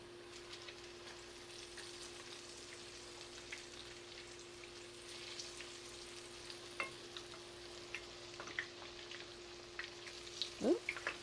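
Butternut chickpea fritters frying in a pan give off a soft, steady sizzle with scattered crackles and pops, growing slightly busier near the end as they are flipped.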